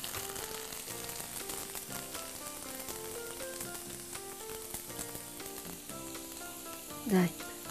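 A vegetarian rice noodle cake pan-fries in hot oil, giving a steady crackling sizzle under background music, with a brief louder burst of spattering near the end.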